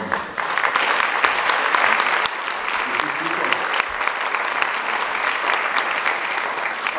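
Applause from a concert audience for a performer introduced onstage, a dense, steady wash of clapping that fills the whole stretch, fairly close and loud, with faint voices mixed in.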